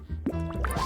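A little water is poured into a cup, a brief close trickle with small dripping and filling plinks rising in pitch.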